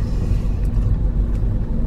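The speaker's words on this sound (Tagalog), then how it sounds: "Traffic." Road traffic heard from inside a car, a steady low rumble of engine and road noise with faint higher hiss, continuous and even throughout.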